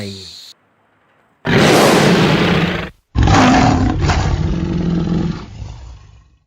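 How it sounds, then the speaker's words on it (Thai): A tiger's deep, powerful roar, loud and close, sounding in two long bursts separated by a brief pause. "เสียงคำรามจากเสือมาจากหุบเขาอันไกลโพ้น ก้องกังวานไปทั่วป่า"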